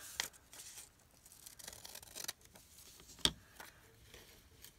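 Paper being cut with scissors for a spring blossom junk journal, a few quiet snips and rustles with a sharper cut near the end, close and faint.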